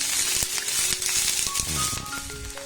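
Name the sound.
chopped onions frying and being stirred in a pan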